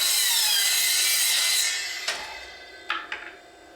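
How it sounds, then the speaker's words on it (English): A handsaw cuts a piece of wood to fit ceiling trim in a salvaged mobile home rebuild. It makes a loud, close rasping stroke that fades out, followed by a few sharp knocks. "I have to cut a piece of wood to fit this"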